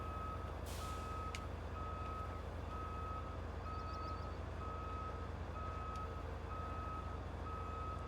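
Heavy truck in the construction video game RoadCraft, rumbling steadily with a low engine drone while a reversing alarm beeps in an even repeating rhythm; a brief air-brake hiss sounds early, with no talk.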